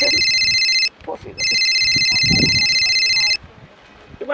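A phone ringtone in a Sambalpuri comedy scene rings loudly in two electronic bursts separated by a short gap, with people talking underneath.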